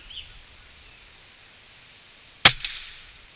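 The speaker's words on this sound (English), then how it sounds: "Let's shoot one more time and then I'll talk about how to zero this scope." A single loud rifle shot fired outdoors while zeroing an Oneleaf NV400 night vision scope, a sharp crack after quiet wind noise, followed by a brief echo or ring.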